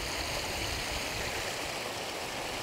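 Cypress Falls on Cypress Creek, a swimming area near Wimberley, Texas, gives a loud, constant broadband rush of falling water that is close by and unbroken throughout.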